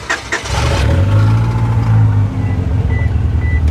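A car with a suspected battery problem cranks and churns continuously as it tries to start, a loud, close, droning whir with no catch of the engine.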